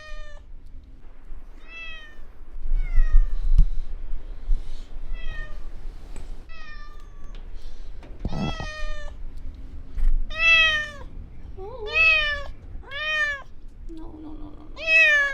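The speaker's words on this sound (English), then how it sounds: "Just woke up, thanks to the cat meowing." A house cat meows repeatedly and loudly up close, a long run of separate cries that grow more frequent and insistent toward the end, with a few soft thumps and low rustling between them.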